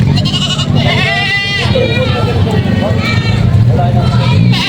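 Goats bleat repeatedly at a busy livestock market in Padre Garcia, Batangas, with loud, wavering cries close by rising over a babble of people talking and bargaining.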